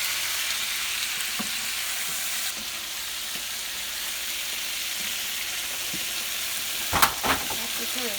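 Chicken curry being stir-fried and mixed in a pan: a steady, broad sizzle of frying that runs throughout, with a few louder clatters of utensil on pan near the end.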